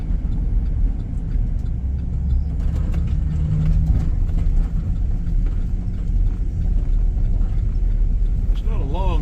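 Car driving slowly on a dirt road in rural Georgia back roads, giving a steady low rumble with gravel and mechanical rattles, heard under continuous talking.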